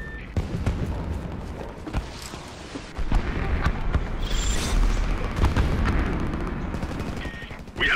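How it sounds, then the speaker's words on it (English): Enemy airstrike explosions in the first-person war game Homefront, heavy booms and rattling gunfire rolling continuously in a dense battle mix, loud and sustained with no clear pauses. "Enemy airstrike incoming."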